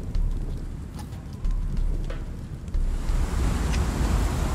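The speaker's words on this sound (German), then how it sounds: "Jetzt könnte der Wind langsam mal aufhören hier." Strong wind gusting in the video game Conan Exiles, a loud continuous rushing roar with heavy low rumble that surges in waves, with no talking.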